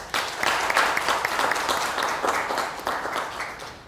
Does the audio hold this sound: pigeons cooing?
no